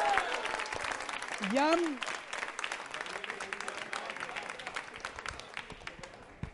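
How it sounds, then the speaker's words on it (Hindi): Audience at a Diwali quiz show applauding a contestant: steady dense clapping from a crowd throughout, with a host's voice speaking over it near the start. "तालियां शशि जी के लिए जोरदार बजाइए"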